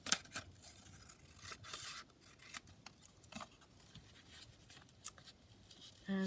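Scissors cutting paper for a journaling page, heard as faint close snips and soft rustling strokes in a quiet room, ending in a brief louder noise.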